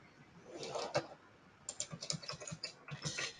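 Computer keyboard typing in two bursts of quick, uneven key clicks separated by a short pause, close and moderately loud with no talking.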